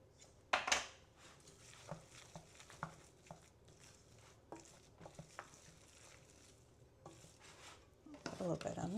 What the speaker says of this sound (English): Mix our butter in there.